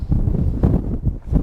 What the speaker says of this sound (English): if it wasn't so windy